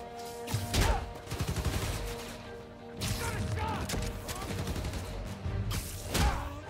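Bursts of enemy gunfire in Marvel's Spider-Man: Miles Morales, loud overlapping volleys with heavy thuds and mechanical clatter, repeating in waves across several seconds.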